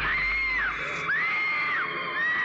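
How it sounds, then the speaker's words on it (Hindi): A girl screams loudly while running, with long shrill wailing cries that rise and fall in repeated bursts over a dim background. "एक लड़की बहुत ही तेज चिल्ला चिल्ला के भाग रही है"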